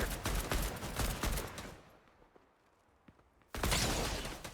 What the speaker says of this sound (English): as you can see, they're all shooting